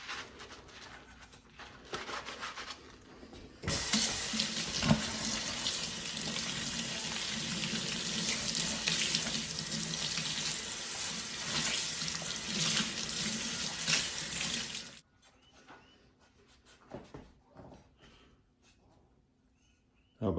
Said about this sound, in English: Now, how about the Scotch Brite scrubber in the sink?